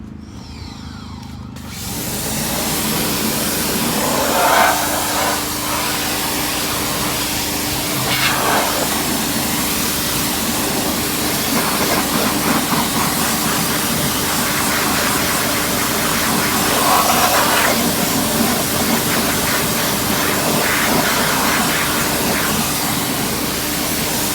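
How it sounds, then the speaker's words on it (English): A pressure washer rinses car wheels and tires: a steady, loud broadband hiss of spraying water starts after a brief quiet opening and runs unbroken to the end. "Now I'm going to go ahead and turn on my pressure washer and rinse it all down."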